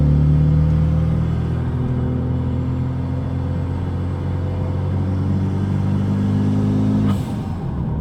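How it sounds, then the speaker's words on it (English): Straight-piped Renault Megane RS RB8 with a downpipe, its engine and exhaust droning loud and steady from inside while driving, a deep rumble holding for about seven seconds before easing off. "how loud this straight-piped car is"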